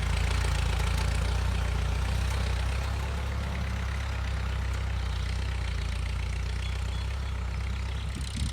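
A Ford 5000 tractor converted to a lifted, high-clearance build idles steadily nearby, its low engine rumble continuous and even throughout, with no talk over it.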